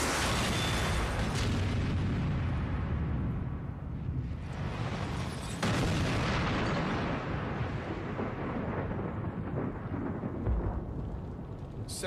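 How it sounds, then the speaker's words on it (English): A spark ignites a fuel-air mixture in an ignition test, setting off a loud rumbling blast that swells, dies down and surges again with a second heavy roar, sustained and thunderous throughout. "We finally had a very aggressive ignition"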